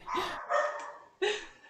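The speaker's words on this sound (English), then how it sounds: "I'm sorry if you can hear my dogs barking." A few sharp dog barks in quick succession, fairly close, with a short pause before a final bark.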